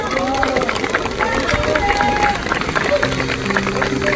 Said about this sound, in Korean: 박수가 많이 나오네요, 중간중간에